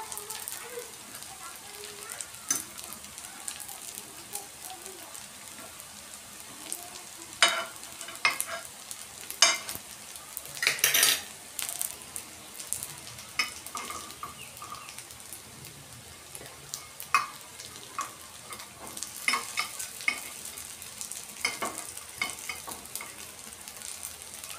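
Aloo kofta frying in hot oil, a soft, crackling sizzle with scattered pops and bursts of bubbling, moderately faint and continuous, while someone talks over it.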